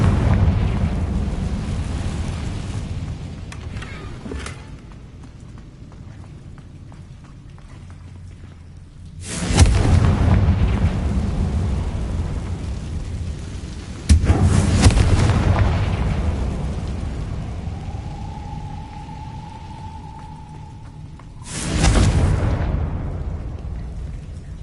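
Confringo fire spells burst in the Hogwarts Legacy video game world, three loud booming blasts spread apart. Each one rolls off into a rumbling decay, with a low hum between them and no voices.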